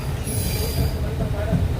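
A passenger train, the Matsyagandha Express heading toward Gokarna, rumbles past nearby with a steady roar and high metallic wheel squeal, faint voices in the background.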